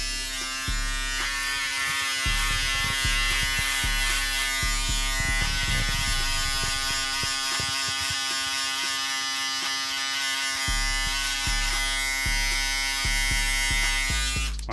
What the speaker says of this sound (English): I'll be using my shaver to give it that extra razor look.